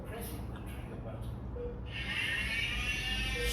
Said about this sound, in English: So this is a sound of saw. He is cutting the bone.